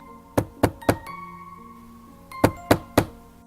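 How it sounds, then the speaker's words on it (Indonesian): Knocking on a door at night: two separate bursts of three sharp, loud raps, each group evenly spaced, close by with a faint low hum beneath and no voices. "Dimulai dari mengetuk pintu di malam hari"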